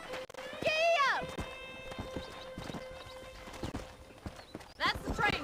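In Red Dead Redemption, a horse whinnies, then hooves clip-clop in a quick steady rhythm, with a synthesized tone sustained beneath and another whinny near the end.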